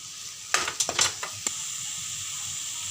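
Ginger garlic paste hitting hot oil with browned onions in a pan while cooking bhindi: a soft steady sizzle with a few clinks and scrapes of a spoon stirring, close and fairly quiet.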